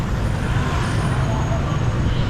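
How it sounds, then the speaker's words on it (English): Busy street traffic in Vietnam, mopeds streaming in both directions, forming a dense, steady roar of engines and road noise close by, with voices mixed into the din. "There's just mopeds everywhere going in both directions"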